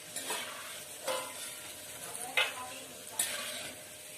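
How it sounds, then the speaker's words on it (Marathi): Peanuts fry in oil for murmura chivda, a constant sizzle broken by four or so distinct scraping stirs of the spoon at a fairly even rhythm. "आता आपल्या शेंगदाण्याचा रंग बदलतोय, लालसर व्हायला लागले, तर आपण आता याला काढून घेणार आहोत।"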